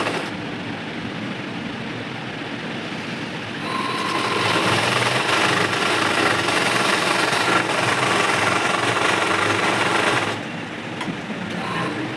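Sewing machine stitching along a fabric edge, a steady close mechanical whir that starts a few seconds in, runs for several seconds and then stops, with quieter low noise before and after.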